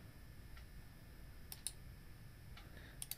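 A few faint, sharp computer mouse clicks, sparse single taps spread over a quiet background, no talking.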